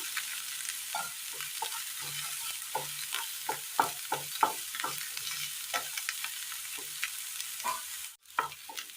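Vegetables sautéing in a pan for a Kerala-style curry, a steady background sizzle with repeated scraping stir strokes in a loose rhythm, close and fairly soft, with no voices.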